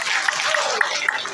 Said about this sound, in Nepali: एकचोटि जोडले ताली बजाउँ है।